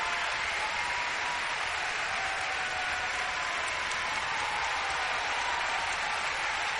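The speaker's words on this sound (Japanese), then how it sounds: "お客さんから拍手をもらっている2人です。" A large crowd at a figure skating world championship ice dance free dance applauds continuously, a dense, even wash of clapping that holds steady throughout.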